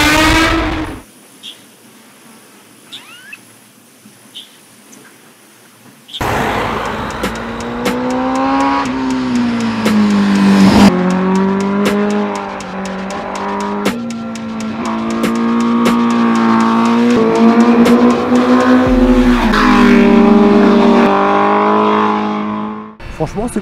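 A Honda CBR 1000 RR-R SP sport motorcycle rides on a mountain road. After a quiet start, its engine revs up loudly and climbs through the gears with rising and falling pitch, heard close and continuous.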